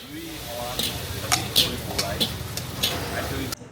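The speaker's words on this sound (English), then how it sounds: "The setup is similar, open air, big flames, and a very busy uncle at the wok" Stir-frying dark egg char in a wok over big open-air flames at a busy roadside stall, with a low roaring burner hiss and scattered sharp metallic scrapes and clanks of the spatula against the wok, with faint background voices.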